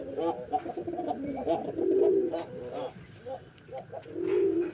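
Pigeons coo from a corner compartment of their coop, giving soft, low, throaty calls that swell twice. Other bird noises sit in the background, close and moderately loud.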